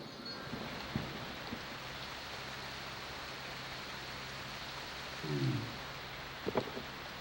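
Steady rain falling in the Jurassic Park: Operation Genesis video game, a constant broadband hiss throughout with a faint low hum, a couple of soft thuds and a brief tonal blip near the end.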